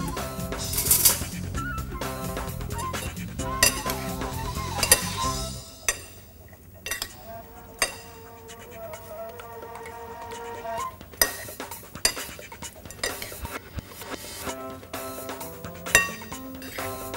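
Tomato salad ingredients being tossed and mixed in a bowl, with repeated clinks and scrapes of a utensil against the dish in an irregular rhythm, close and fairly loud.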